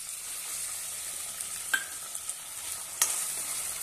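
Green peas and cabbage are sautéed in a pan, giving a steady hiss of frying with a couple of soft stirring scrapes, close but fairly quiet, with no speech.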